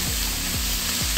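Minced meat frying in a hot wok for mapo tofu gives off a steady, close sizzle, with three short scraping stirs of a spatula spaced evenly through it.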